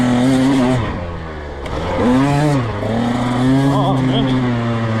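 A dirt bike engine revs loudly and close up on a trail ride, its pitch rising and falling in a couple of surges, with no clear talk over it.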